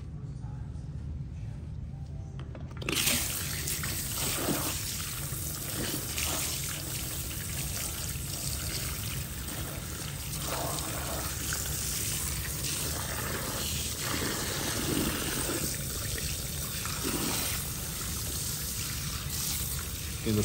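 Steady running water at a shampoo sink while conditioner is rinsed from hair, beginning abruptly and then streaming and splashing continuously for the whole stretch, with voices faintly underneath.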